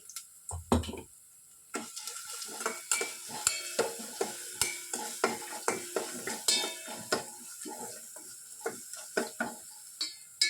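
Tempering sizzles and frying in a pan for sonti rasam, with repeated spoon-stirring scrapes and taps against the metal in a steady rhythm, close and clear, with no talk.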